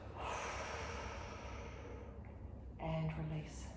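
During a seated Pilates twist, a long, steady exhale through the mouth is audible up close, followed by a brief quieter breath, with an instructor's calm voice nearby.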